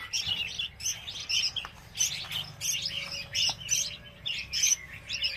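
Young red-whiskered bulbuls and other chicks on a bird farm chirp busily in quick, overlapping high tweets that continue nonstop, close by, with no talking.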